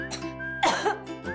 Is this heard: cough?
yes